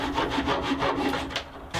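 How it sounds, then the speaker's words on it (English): A hand saw rasps back and forth in quick, steady strokes, trimming the protruding ends of wooden plugs on a reclaimed-wood crate toybox, close and alone, ending with a brief pause. "Now I'll just trim off the ends of the plugs."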